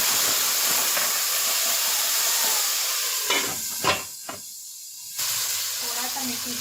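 Water splashed into a hot pan of frying onion bursts into loud steam and sizzle, a sharp hiss flaring and cutting out in a few spurts before the quieter frying resumes.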